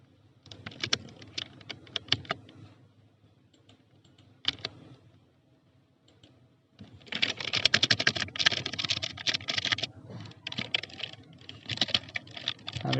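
Someone types a slogan in Photoshop on a computer keyboard, with close, soft clicking keystrokes in scattered bursts, then a denser, faster run of typing in the second half.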